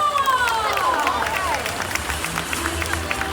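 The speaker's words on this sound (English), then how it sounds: "Can we give them a round of applause?" Crowd applause and light cheering at the finale of a bird show at Jurong Bird Park in Singapore, a steady spread of claps rising after a falling whistle-like tone, with crowd chatter mixed in.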